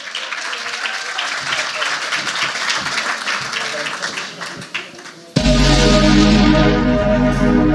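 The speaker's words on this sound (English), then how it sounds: "Clap the queen!" A hall audience at a creative writing awards event gives a singer a sustained round of applause, dense clapping and cheers that fade after about five seconds before music abruptly starts loudly.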